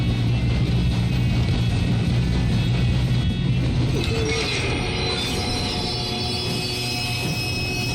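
Train in the video game Red Dead Redemption 2 rolls along during a robbery, a loud, continuous rumble and clatter with faint metallic squeals of the wheels throughout.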